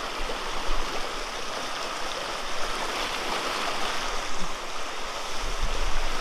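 A clear hill stream in the Bandarban hills rushes steadily over rocks, a continuous broad wash of flowing water close by with no voices.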